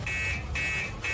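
A car alarm sounding in short repeated electronic bursts of a steady high tone, roughly two per second, loud and close over a low rumbling background.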